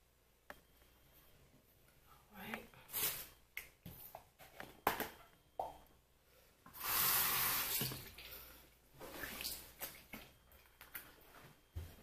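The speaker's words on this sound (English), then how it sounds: "I'm gonna do my neck in the shower." Water runs from a shower onto a neck during a morning and night care routine, heard as intermittent splashing bursts with a longer steady rush in the middle, close to the microphone and without talk.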